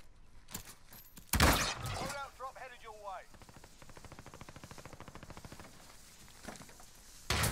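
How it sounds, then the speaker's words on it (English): Glass shatters loudly during a Warzone match, a sharp burst of breaking panes followed by rapid gunfire crackle, with players talking over the action. "Glass broken on me."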